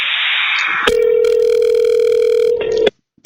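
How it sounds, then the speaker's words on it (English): An outgoing telephone call is heard: a steady dial-type tone gives way to a loud, sustained ringback tone on the line, then it cuts off abruptly into silence. "and it's ringing"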